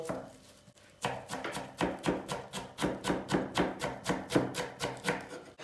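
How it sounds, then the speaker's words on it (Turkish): Rapid, steady knife chops through parsley on a cutting board after a brief quiet start, roughly a dozen crisp strikes in an even rhythm, close and clear. "Maydanozu doğradık hazır."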